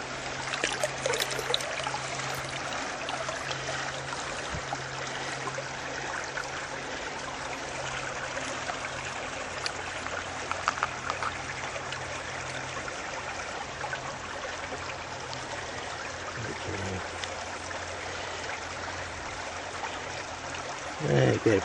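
Water sloshes and trickles steadily in a green plastic gold pan as a prospector works the material, a continuous close watery swirl lasting throughout.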